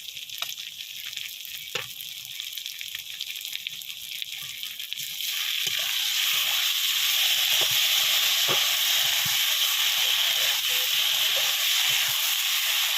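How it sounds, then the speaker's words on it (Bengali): Onions with bay leaf, ginger-garlic paste, cumin-coriander paste and dried red chilli paste frying in a pan: a quiet sizzle swells midway into a loud, steady hiss, with a few soft clinks of stirring close by. "এবার মশলাটাকে আমরা ভালো করে কষিয়ে নেব।"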